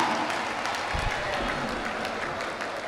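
Audience applause at a poetry ceremony during an art and literature festival, a steady broadband patter of clapping from a seated crowd filling the whole stretch at moderate level.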